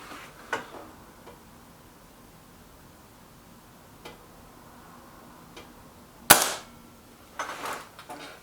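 Air rifle pellet shots from a Kral Puncher and a BSA R12 SLX, heard as a few sharp, isolated cracks spread across a quiet background, with one loud near report standing out and a cluster of softer clicks afterward.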